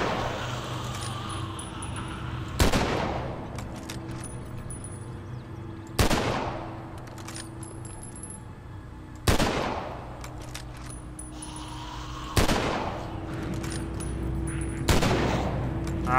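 Single heavy gunshots in The Walking Dead: Survival Instinct, five loud sharp cracks spaced a few seconds apart, each ringing out over a low ambient game background.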